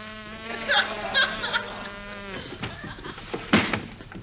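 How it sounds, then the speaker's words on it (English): A bee buzzes in a 1945 radio comedy as a sound effect, a droning, wavering whine rising and falling in short bursts, fairly close and clear, with a laugh-like sound near the end. "Go away, bee. Go away. Go away."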